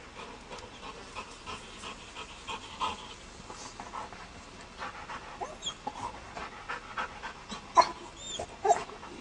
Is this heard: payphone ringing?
no